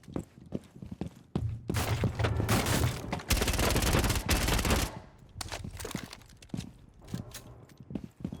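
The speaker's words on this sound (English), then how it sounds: "Devs need to nerf the SMG-12." An SMG-12 submachine gun fires in rapid bursts in a video game, loud and close, with dense rattling volleys in the middle and scattered shots and clatter around them.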